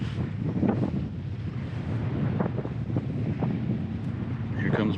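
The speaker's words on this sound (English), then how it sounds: "This wind is crazy" Strong wind gusts hammering the microphone while kayak fishing on open water, a constant roaring buffet with lapping water beneath, loud and close throughout.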